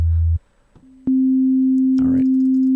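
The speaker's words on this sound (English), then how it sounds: "So we have our sine wave for oscillator 1." A pure sine tone from oscillator 1 of Ableton's Operator synth starts after a brief low hum and a short lower tone, then sustains steady and loud, with a quick noisy burst over it partway through.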